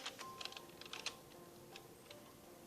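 Keyboard keys tapped in short bursts to enter a search, faint clicks over a steady background hum with no talking.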